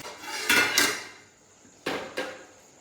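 Garam masala being sautéed in a cooking pan, heard as two pairs of sharp metallic clanks of a utensil against the pan with quieter ringing and scraping between them, close and loud, no talking.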